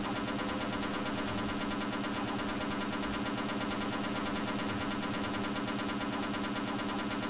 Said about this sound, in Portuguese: Eu tô atirando em ti, morre.